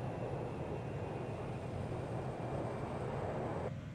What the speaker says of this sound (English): There goes Concorde.